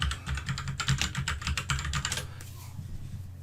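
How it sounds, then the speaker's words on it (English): A rapid burst of close keystrokes on a computer keyboard as the Flutter Doctor command is typed, clattering for about two seconds before stopping abruptly. "So I should be able to type in Flutter Doctor now"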